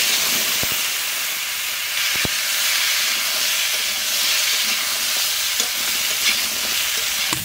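Taro and potato sizzle and hiss steadily in fish-frying oil in a wok, with occasional stirring clicks over the constant frying; no one speaks.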